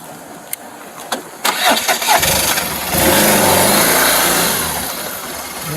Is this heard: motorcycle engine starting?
yes